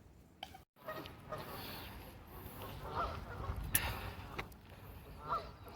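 Ducks quack and honk in scattered short bursts, fairly faint, with a brief thud near the start and light background noise.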